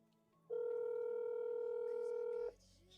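A telephone call ringing out as a single steady electronic ring tone lasts about two seconds, clear and prominent over a quiet room, then stops abruptly.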